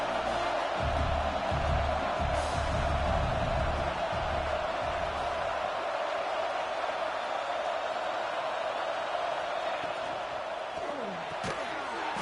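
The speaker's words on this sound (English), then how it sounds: "This crowd bringing the energy and noise early." Football stadium crowd noise, a steady dense roar from a large crowd through the whole stretch, with a few low thumps early on and a voice talking over it.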